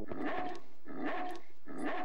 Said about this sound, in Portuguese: o que esse cachorro tem, mano?